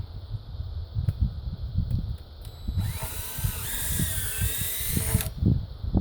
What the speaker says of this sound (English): The log underneath is kind of rotten, so it drills easily.